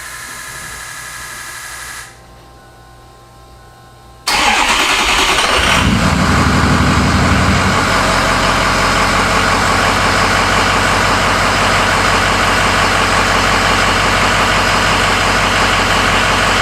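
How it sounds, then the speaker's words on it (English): A Ford 6.0 Powerstroke diesel pickup cranks briefly and fires up with a sudden loud roar after a quiet pause. It then settles into a steady, close, rumbling idle with a faint ticking clatter. "So I'm gonna start the truck, back it out, back into its spot, see how it feels"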